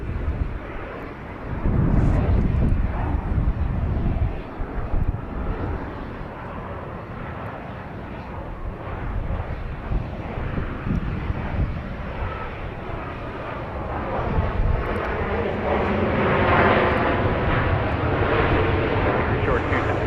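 Airliners arriving to land at Dallas Love Field roar past as a loud, sustained engine rumble that swells and fades over twenty seconds, with wind buffeting and people talking beneath it.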